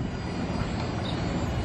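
A DJI drone lifting off outdoors, its propellers giving a loud, steady, close whirring roar that holds even throughout.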